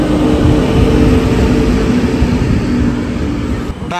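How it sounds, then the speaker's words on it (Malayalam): Bangalore–Coimbatore Double Decker Uday Express train at Tiruppur railway station, a loud continuous rumbling roar of the passing train with a faint steady tone above, no talk. "ബാംഗ്ലൂരിൽ നിന്ന് കോയമ്പത്തൂരിലേക്കുള്ള ഡബിൾ ഡെക്കർ എക്സ്പ്രസ് ആണ് ഇത്"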